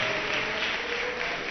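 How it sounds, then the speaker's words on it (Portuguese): A church congregation claps, a brief burst of steady, dense applause heard at a moderate distance with no talking over it. "Dá uma salva de palmas, glorifica ele"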